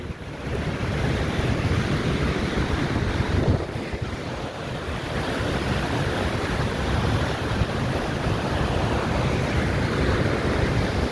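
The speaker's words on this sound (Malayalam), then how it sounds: "വെള്ളം ചാടനുണ്ട്" Water splashing and waves churning in strong wind, a loud continuous wash with gusty rumble and a brief dip partway through, close to the microphone and with no talking.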